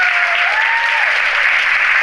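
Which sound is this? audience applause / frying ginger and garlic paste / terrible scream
audience applause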